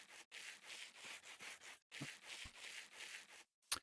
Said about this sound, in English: just start sanding it